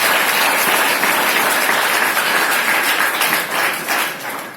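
A large audience applauds at a Marathi poetry recital: dense, continuous clapping that stays loud throughout and eases off slightly toward the end.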